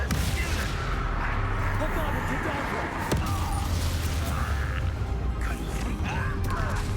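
Spell combat against goblins in Hogwarts Legacy on PC, a dense, steady wash of game effects with clanks, creaks and blasts of magic under background voices, loud throughout with a sharp impact near the middle.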